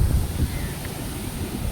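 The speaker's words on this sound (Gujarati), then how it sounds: "કેવો પવન આવ્યો આમ તો જો." Strong wind after a storm that uprooted trees roars and gusts against the microphone outdoors, a loud rumbling buffet that swells and eases.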